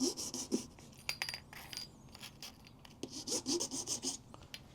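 A hand file rasps across the metal of a Mamiya 645 manual lens mount in short, repeated strokes, each a close, scratchy burst separated by brief pauses.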